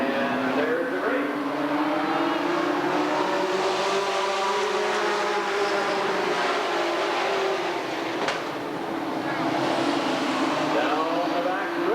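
Sportsman race cars roar off together at the green flag on an oval track at Redwood Acres Raceway, engines revving hard and rising in pitch as the pack accelerates, loud and sustained with an announcer talking over it.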